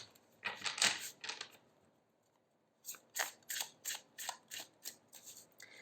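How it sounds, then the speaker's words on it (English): Tarot cards being shuffled close up: a quick burst of crisp riffling, a pause, then a longer series of rhythmic riffles and snaps. "Give me a second so I can shuffle once more."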